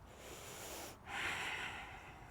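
Slow, audible breathing during a yoga flow, a soft steady airy hiss with a sharper, louder breath surging in about halfway through, close and alone without talk.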